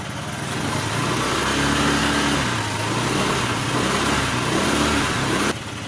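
A Honda Vario 110 carburetor scooter engine revving close by, the pitch rising and holding, then dipping and climbing again before cutting off sharply.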